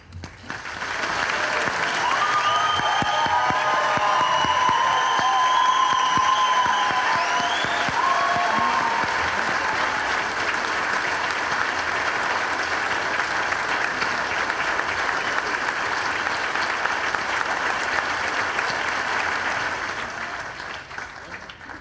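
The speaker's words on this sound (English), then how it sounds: "I can't believe the applause I'm getting" Large crowd gives sustained, loud applause for the recipient of the 2014 Brian Dickinson Award for Courage at an ALS Association Rhode Island chapter event, steady clapping lasting about twenty seconds with a few faint tones over it.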